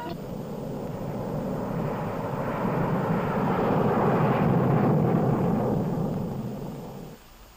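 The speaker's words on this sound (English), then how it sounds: "Specially instrumented aircraft fly the tests" A specially instrumented test aircraft flies overhead, a broad rumbling engine roar that swells to a loud peak midway, then fades off toward the end, with no other sounds alongside.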